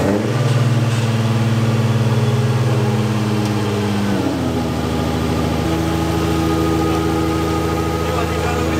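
Nissan 350Z fitted with a Stillen supercharger kit runs close by, a steady loud engine drone that shifts pitch around four seconds as it settles into a rough idle, with people talking over it.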